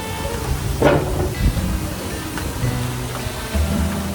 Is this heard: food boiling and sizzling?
yes